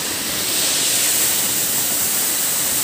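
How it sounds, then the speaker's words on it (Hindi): A village waterfall in a bathing spot gives off a loud, constant hissing rush of falling water close by, unbroken for the whole stretch with no voices. "ये रहा झरना, यहाँ से नहाने के लिए मस्त होंगे।"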